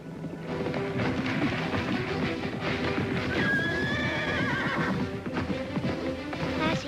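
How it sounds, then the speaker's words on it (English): A horse neighs loudly in a long whinny while hooves clip-clop steadily underneath. "Boy, sure's a beautiful horse."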